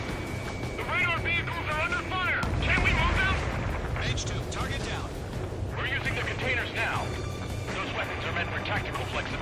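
Artillery and gunfire rumble beneath radio chatter in the Ace Combat 7 video game, a steady low roar of distant impacts and shots running under overlapping voices, with a heavier surge midway.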